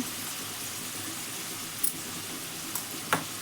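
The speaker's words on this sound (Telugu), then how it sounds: "అలా ఒక 2 నిమిషాలు వేగలండి" Chopped onions frying in a pan for an Andhra-style chicken fry curry: a soft, steady sizzle with a few faint clinks of stirring.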